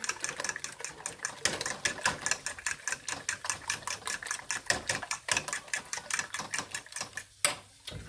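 A spoon stirs a milk mixture for a quiche in a bowl, making quick, steady, rhythmic clinks and scrapes that carry on without a break at a moderate, close level.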